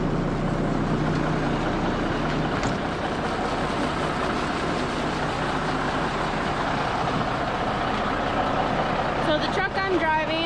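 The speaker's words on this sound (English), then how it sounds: "the truck I'm driving is a 1970 something Kenworth" A 1970s Kenworth grain truck with a tilt bed, ten-speed transmission and pup trailer drives along, its engine droning steadily and loudly throughout with road noise, and a brief higher whine near the end.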